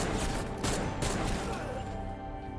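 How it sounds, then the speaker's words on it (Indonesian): Gunshots in an action film scene, a rapid burst of several loud cracks spaced through the opening seconds, mixed with music and effects beneath a narrating voice. "mengambil pistol dan langsung menembak Jeong beserta dengan Pak Bang"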